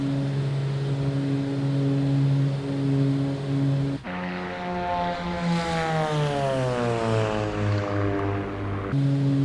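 A propeller airplane in a flight simulator game takes off and climbs, its engine a steady harmonic drone that breaks briefly, then shifts and bends in pitch as power and speed change.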